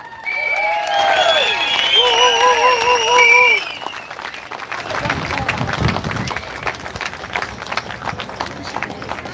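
Audience clapping and cheering at a live show, first under loud tonal sounds and a voice, then continuing on its own as a steady patter of applause.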